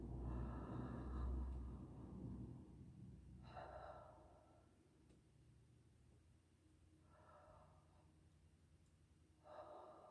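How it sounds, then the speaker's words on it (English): Four slow, close breaths in and out through the mouth to take in tea tree aroma, faint airy inhalations separated by quiet pauses. "by inhaling in the mouth, I'm taking the molecules right down into the lungs"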